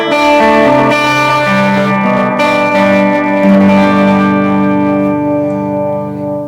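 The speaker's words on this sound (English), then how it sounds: "it has this modulation knob, which gives you sort of a chorusy sound, which you just heard" Sustained electric guitar chords through a Dunlop analog delay pedal with its modulation knob engaged, giving a wavering, shimmering chorus and soft repeating echoes trailing behind, loud and continuous with no voices.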